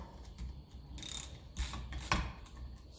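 A socket wrench fitted with a half-inch socket ratchets on a part from a 1957 Ferguson 35 TVO tractor at a workbench, giving a few short bursts of quiet clicking heard close up.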